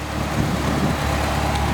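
A rebuilt engine in a 1982 Jeep CJ-7 idles steadily and close by, a low, even rumble that holds through the whole brief stretch with no voices over it.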